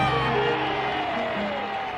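A large crowd of about ten thousand people cheers and whoops at a small-town railroad station welcoming Harry Truman home, a dense continuous roar of voices heard throughout.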